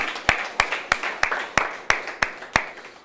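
Sharp, evenly spaced claps ring out about three times a second, each fading quickly, loud and close, with a faint crowd bed beneath them at a talk given by an indie app developer.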